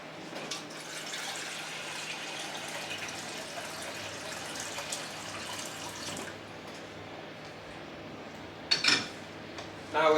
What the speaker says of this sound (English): filling up the saucepan with water and putting it on to boil